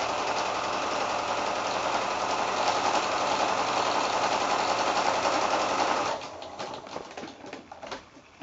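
A sewing machine stitches a flanged cushion with a loud, close, continuous whir. The whir drops to quieter, uneven stitching near the end as it slows around a corner.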